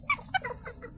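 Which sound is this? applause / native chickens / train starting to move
native chickens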